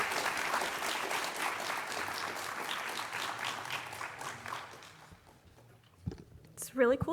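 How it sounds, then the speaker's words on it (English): At an award ceremony, an audience breaks into sustained applause that gradually dies away, followed by a few close knocks and handling noises as someone approaches the stage. "If we could have a round of applause."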